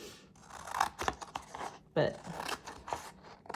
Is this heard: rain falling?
no